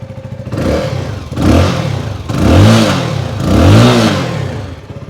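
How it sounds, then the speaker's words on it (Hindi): A 2023 Keeway K300R motorcycle's exhaust barks through four repeated throttle blips, each rev rising and falling with a deep throaty burble, loud and close. "अभी हम सुनते हैं गाड़ी का एग्जॉस्ट नोट कैसा है."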